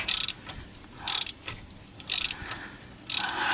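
On a 2016 Ford F-150 XLT 5.0, a ratchet turns a bolt during a transmission line job, giving four evenly spaced bursts of rapid metallic clicking, close-up with quiet pauses between strokes and no talking.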